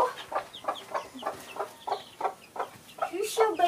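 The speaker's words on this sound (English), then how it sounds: "My chicken hen." A hen clucks in a repeated, evenly spaced rhythm, each cluck short and close, with a few softer chirps near the end.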